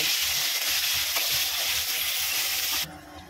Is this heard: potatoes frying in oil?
yes